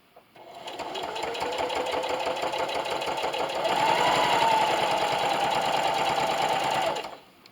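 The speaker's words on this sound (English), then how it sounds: "just sew the entire way around the bib with that 1/8 inch seam allowance" A sewing machine runs a steady straight stitch around the edge of a baby bib, whirring close and loud at an even pace for several seconds before stopping, with no talking.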